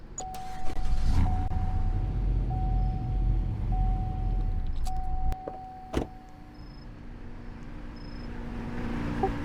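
A police squad car in a video game roleplay hums with a steady engine drone that cuts off midway, followed by a sharp clunk and quieter mechanical whirring, with no voices present.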